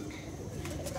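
A pigeon with a locked wing, kept under care, gives a brief low coo close by, a soft throaty murmur lasting about a second with no voices.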